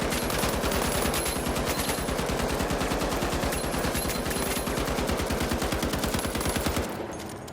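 An M60 machine gun fires in the shooter game The Finals, one long sustained burst of rapid, evenly spaced loud shots that stops near the end.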